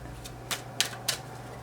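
Romance Angels oracle cards are shuffled by hand during a tarot reading, four quick crisp flicks and riffles spaced unevenly over a quiet background, close and soft.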